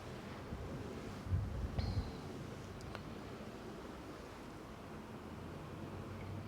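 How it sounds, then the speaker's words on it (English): Ocean waves washing onto a beach by the sea, heard as a steady, fairly soft wash of surf and wind noise throughout, with no voices. "as the waves make sounds on the beach"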